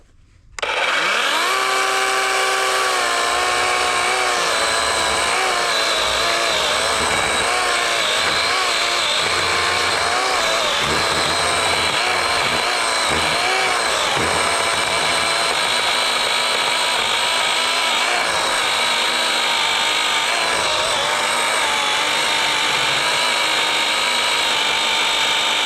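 A cheap, small QZTDO chainsaw bought on Amazon revs into a large log and runs continuously, a loud, close, high-pitched motor whine that strains and wavers as it bites through the wood.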